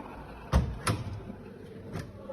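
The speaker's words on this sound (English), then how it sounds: "For the bottom, we use drawers. This is push out drawers." A push-out drawer at the bottom of a custom glass retail showcase opens with two sharp low knocks close together, followed by a quieter click, heard nearby in a quiet room.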